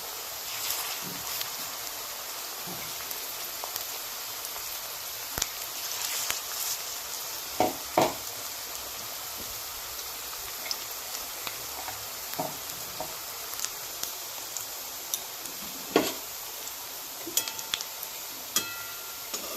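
Drumstick flower fritters in gram flour batter with chopped green chili fry in hot oil, a soft, steady sizzle broken by scattered pops, scrapes and crackles, fairly quiet and with no voices over it.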